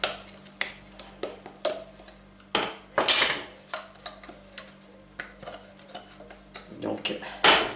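A utensil scrapes modelling dough stuck to the bottom of a saucepan, giving a string of sharp metallic scrapes and taps in an irregular rhythm, close and fairly quiet.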